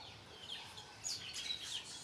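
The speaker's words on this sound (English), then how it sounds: "we have lots of birds that come here" Birds chirp around a village home, with scattered high tweets and short calls rising over a quiet rural background. A few sharper chirps come in the second half, and no one speaks.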